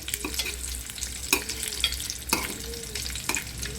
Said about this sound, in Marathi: पहिले अंडी अशी ही फ्राय करावी लागतात म्हणजे भाजावे लागतात